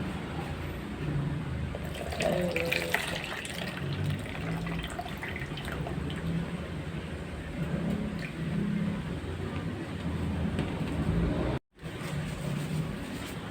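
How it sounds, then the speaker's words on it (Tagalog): Water trickles and drips steadily from tofu being drained, against a soft, continuous background wash, with faint squishy sounds of the wet tofu being handled. "Tanggalan lang natin ang tubig."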